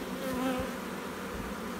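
A dense, steady hum of many honeybees buzzing close by as brood and bees are handled at a hive, continuous and even in loudness with no talking.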